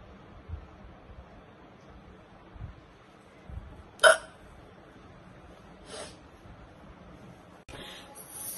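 A woman's hiccups, three short sharp bursts spaced a couple of seconds apart, close and fairly loud against quiet room noise.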